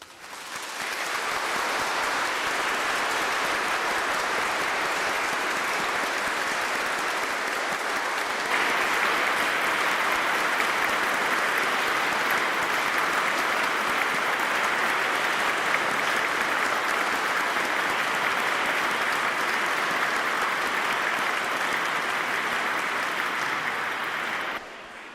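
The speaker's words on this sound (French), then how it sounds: "Je crois que nous pouvons les applaudir." Steady, sustained applause from a church congregation for the newly confirmed at a Pentecost confirmation service, dense and even for about 24 seconds before stopping abruptly.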